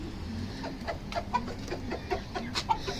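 Sialkoti male and 35-wali female pigeons, kept alongside a Chui Bateri female, give repeated short cooing and clucking calls in an irregular series, fairly close, over a steady background hum with no talking.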